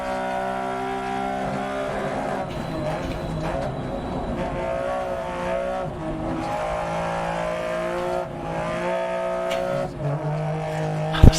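A rally car engine in the video game DiRT Rally 2.0 roars continuously with shifting revs and gear changes, loud and close, with a brief tire squeal near the end.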